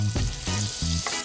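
Olive oil and butter sizzling loudly in a pan, a close, continuous fry with rhythmic pulsing bursts as the fat bubbles.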